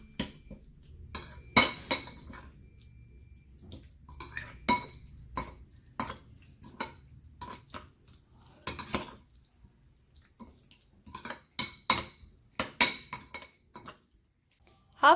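Chicken is mixed with yogurt and spices in a bowl, the spoon knocking and clinking against the sides in irregular bursts with quiet gaps between them.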